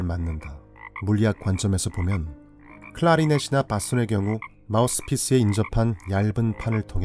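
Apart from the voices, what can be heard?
frogs croaking loudly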